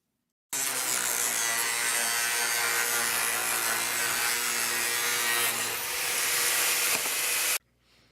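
Steady, continuous sawing of fiberglass angle stock, a dense gritty rasp running for about seven seconds without a break, close up and loud, then stopping abruptly.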